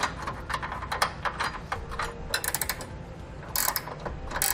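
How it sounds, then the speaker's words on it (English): A bolt being threaded through a bumper beam into a handle nut while a Roadmaster EZ4 base plate is fitted to a 2016 Jeep Grand Cherokee, giving close, uneven metallic clicks and ratcheting scrapes. "We'll now thread the bolt into our handle nut."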